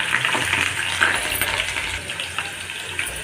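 Mustard seeds, chana dal and green chillies sizzling in hot oil in a kadai for a sweet potato palya, a steady, loud crackling fry with scattered pops and no talking.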